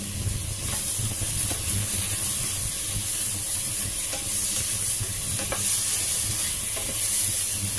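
Tomatoes hit a hot pan for Ilocano pinakbet, a dense close sizzle and hiss with clicks and scrapes of stirring throughout, steady in level, no one speaking.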